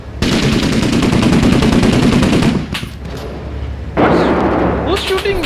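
Gunfire in the video game Six Days in Fallujah: a loud, rapid automatic burst runs for a few seconds, breaks off, then resumes in shorter bursts as a voice speaks over the shooting.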